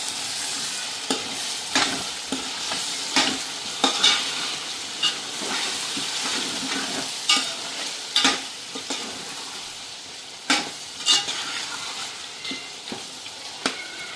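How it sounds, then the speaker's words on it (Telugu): Village-style country chicken curry sizzles and fries in oil in a pan while a spoon stirs it, making a steady hiss broken by repeated scraping clatters, with no talking. "మళ్ళీ ఒకసారి తిప్పుకోవాలి."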